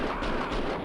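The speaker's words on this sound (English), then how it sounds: "Grenade!" A grenade explodes in the video game Max Payne 2, a short dense rumbling blast that fills the whole brief moment, loud and close with no voices.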